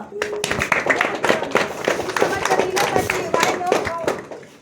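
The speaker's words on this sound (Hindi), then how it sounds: "ताली बजा।" A church congregation at a New Year's Eve service claps along in quick, uneven bursts, sharp hand smacks layered with voices singing and speaking throughout.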